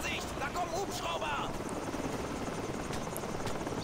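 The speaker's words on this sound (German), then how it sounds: "Vorsicht, da kommen Hubschrauber!" A helicopter in Call of Duty 4: Modern Warfare closes in, its rotor drone steady and prominent amid scattered game effects and battlefield clutter.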